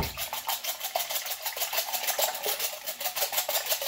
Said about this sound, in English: I'm going to whisk them up now.